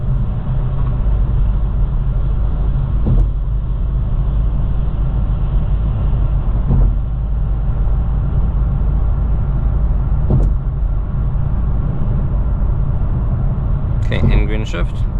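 Steady low road and engine rumble from a 2022 Hyundai Veloster N with a dual-clutch transmission cruising on a highway, a constant drone with tire roar throughout and a few faint clicks near the end.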